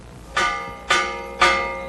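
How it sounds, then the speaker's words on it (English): A large bell rings at the Buenos Aires stockyards in Argentina, three loud, evenly spaced strikes about half a second apart, each ringing on and fading before the next. "the morning bell rings more like a warning bell"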